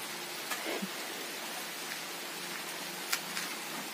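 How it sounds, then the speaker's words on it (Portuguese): Rain falls as a steady hiss of broadband patter outdoors, with occasional soft drop impacts and faint clicks, fairly quiet and continuous, with no clear talking. "Mas saia da chuva, seu Chico."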